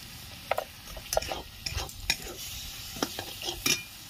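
A spatula stirs and scrapes masala frying in a pan for dhaba-style egg tadka, with scattered clicks and scrapes over a soft sizzle, close and moderately quiet, with no talk.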